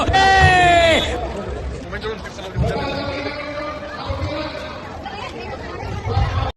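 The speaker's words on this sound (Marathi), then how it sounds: "होळी खेळण्यासाठी इतकी जास्त गर्दी होती की पूर्ण ग्राउंड फुल झालं होतं।" A large crowd gathered on an open ground for a Holi celebration, close, lively babble of many voices with shouts and a loud rising yell at the start, continuing as busy chatter throughout.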